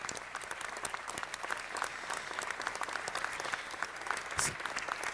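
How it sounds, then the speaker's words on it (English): Sustained audience applause at a city council meeting, dense and steady throughout, with a brief louder swell near the end and no talk over it. "Let's give them a round of applause."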